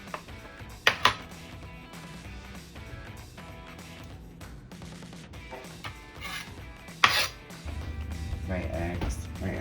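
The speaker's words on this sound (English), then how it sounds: "I'm just gonna mash these up with a fork" A fork mashes separated hard-boiled egg yolks for deviled eggs, giving soft scraping and rubbing strokes with a few sharp clinks against the bowl, while a person talks throughout.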